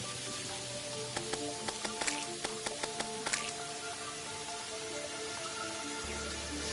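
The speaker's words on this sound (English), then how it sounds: "Rain symphony every day." Rain in Terraria: a steady hiss of rainfall with scattered droplet ticks over a musical tone, alone without talk.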